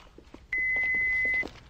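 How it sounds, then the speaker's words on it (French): A single steady electronic beep from an answering machine, held for about a second after a recorded greeting, moderately loud and alone, with faint room sound around it. "Laissez-nous un message. Après le bip."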